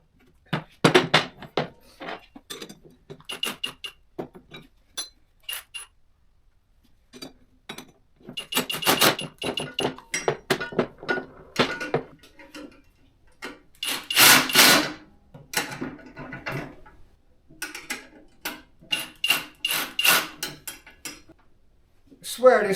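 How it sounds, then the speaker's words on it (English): A Harbor Freight Badlands ZXR 12,000 lb winch being mounted onto a receiver plate, with repeated metallic clanks, scrapes and rattles of bolts and steel parts in irregular bursts over about twenty seconds. "I'm gonna mount my winch onto this"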